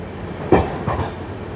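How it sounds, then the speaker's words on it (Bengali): A train pulls out of a station near Nalhati Junction, heard from on board as a loud steady rumble with a couple of heavy wheel clunks from the rail joints and no voices. "ট্রেন ছেড়ে বেরিয়ে যাচ্ছে।"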